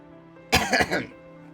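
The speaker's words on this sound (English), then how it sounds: "Sorry, I got a cough there." One sharp, close cough in a couple of quick bursts, breaking a quiet room with a faint background hum.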